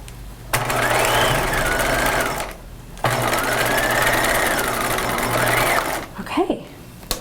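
A sewing machine stitching a short seam on a cropped retro jacket, running in two steady buzzing bursts separated by a brief pause, close and loud, ending with a few small clicks.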